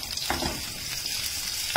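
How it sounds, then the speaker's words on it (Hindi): Potatoes shallow-fry in a tablespoon of oil over a high flame, giving a constant close, bright sizzling hiss with small pops and a brief stirring scrape. "1 टेबलस्पून ऑयल में हमने इसको अच्छे से शैलो फ्राई कर लिया है"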